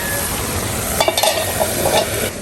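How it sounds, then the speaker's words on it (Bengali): Small fish chorchori simmers and sizzles in a pan on a stove, a continuous frying hiss with a few light stirring scrapes rising in the middle, close and fairly loud with no talking. "তো চুলায় হচ্ছে গুঁড়া মাছের চচ্চড়ি"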